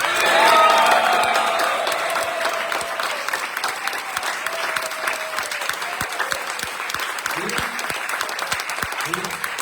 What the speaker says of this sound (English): I think you should give a big round of applause.